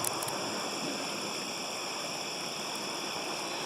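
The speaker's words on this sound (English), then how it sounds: "some water down there, some water going through that stream." Steady broadband rush of water flowing through a stream beneath a bridge, continuous and even throughout, with no talking.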